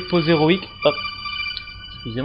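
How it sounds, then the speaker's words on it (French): A phone rings with the Metal Gear codec ringtone, sustained electronic tones sounding between and under French speech. "Pour ceux qui auront reconnu, c'est la sonnerie de Metal Gear."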